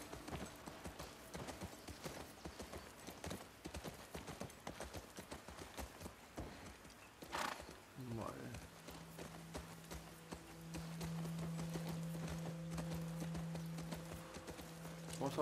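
Horse hooves clip-clop steadily in The Last of Us Part II, a fast, even patter of close hoofbeats that slows near the end as a low droning tone rises underneath.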